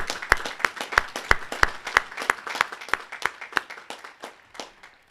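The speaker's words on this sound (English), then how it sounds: "So I want to give them a round of applause for what they do for us." A small audience at a school commencement claps for the Board of Trustees with slow, evenly spaced, close, sharp claps that gradually soften and thin out over five seconds.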